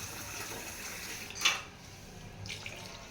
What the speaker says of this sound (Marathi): पाणी आपण थोडा अजून एखाद ग्लास वाढवूया.